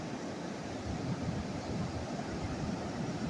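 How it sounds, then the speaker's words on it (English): Ocean surf at sunset in Pacific Beach, steady rushing wash of intense waves breaking on the shore, continuous and moderately loud with wind noise mixed in. "These waves have been so radical and so intense all day."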